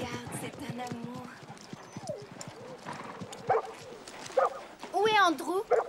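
A dog yaps and whimpers near horses whose hooves clip-clop steadily, while people talk over the scene and the barks grow louder toward the end.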